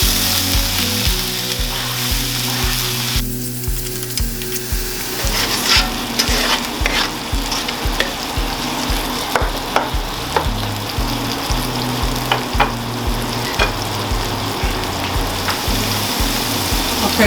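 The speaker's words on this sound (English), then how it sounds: "We're going to add the oil now and all the onions" Onions, ginger, garlic and a habanero frying in oil in a pot for a seafood stew, with a steady sizzle and occasional stirring scrapes running continuously at close range, no talking.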